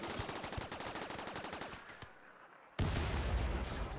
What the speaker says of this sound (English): Oh boy, auto mortar.